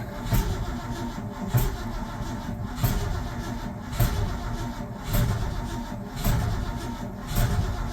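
A 1984 Ford F250 engine cranks repeatedly without starting, the starter giving a steady churning sound broken by regular surges about once a second for the whole stretch, loud and close with no voices.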